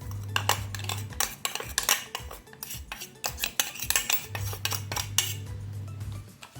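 Ground urad dal is scooped from a mixer jar into a vessel, giving irregular clinks and scrapes of a spoon on metal, close and fairly loud, with a low hum in places.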